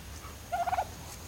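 A turkey on a rustic farm kept alongside Muscovy ducks gives a short, faint gobble, a quick rattling burst of four or five warbling pulses lasting under half a second over quiet outdoor background.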